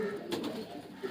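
Homing pigeons coo softly in a brief low call, faint and close, with a murmur of background noise around it.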